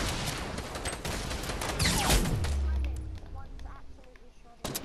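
A grenade blows up in Fortnite with a deep, booming burst in the middle, following a rattle of gunfire and trailing off into quieter game sounds.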